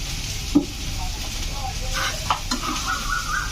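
Oil poured into a hot pan gives a close, continuous frying hiss, with a few scattered knocks and scrapes of utensils on the pan over the sizzle.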